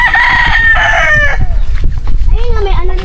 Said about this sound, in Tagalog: Ayun yung mga manok ko.